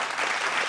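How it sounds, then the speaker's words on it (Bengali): Loud, sustained applause from a studio audience at a Bengali family game show, dense clapping filling the whole moment without pause or voices. "জোরে হাততালি একটা।"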